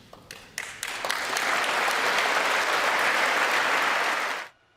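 Sustained crowd applause at a presidential speech swells after a few scattered early claps, holds steady and loud for several seconds, then cuts off abruptly.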